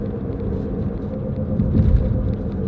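Worn front wheel bearings on a front-wheel-drive car give a low, pulsing woo-woo rumble while it coasts. The sound is loud and continuous and swells slightly toward the end.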